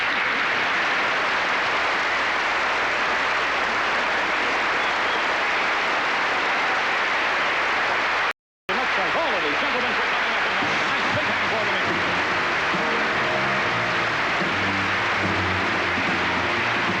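Loud, sustained audience applause at a live stage magic show following a card trick, a dense wash of clapping that runs throughout, briefly cut out midway, with a voice talking over it in the later part.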